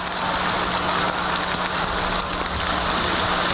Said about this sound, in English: The rain did not cease to fall, and there was more to come.